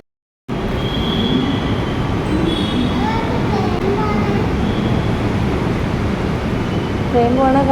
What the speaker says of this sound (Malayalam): ട്രെയിൻ പോണ കാണാവോ?